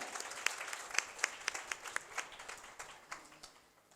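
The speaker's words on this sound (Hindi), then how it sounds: "तो एक बार ज़ोरदार तालियां हम सब के लिए।" Scattered hand claps from a small crowd at a hymn release ceremony in Rattanabad, Mirpur Khas, sharp and fairly close, thinning out and fading toward the end.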